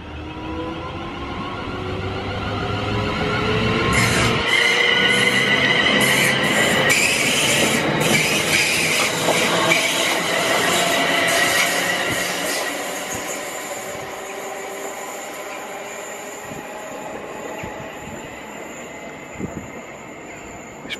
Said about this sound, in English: So, this is a unit come from Birmingham, heading for London Euston via Northampton and Milton Keynes.